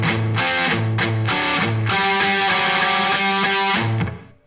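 Distorted electric guitar plays a rock riff, steady chugging notes with sustained harmonic tones, loud and close, ringing out alone before fading at the end.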